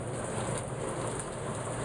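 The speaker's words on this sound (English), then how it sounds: "Started raining out of nowhere." Steady rain begins outside, a dense even hiss of falling drops with no breaks, fairly quiet and heard alone.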